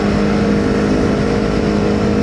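A Kawasaki Z250 fitted with an aftermarket exhaust borrowed from a KTM Duke 200 and a remapped ECU drones loudly and steadily up close, a dense, rough exhaust note held throughout with no pauses.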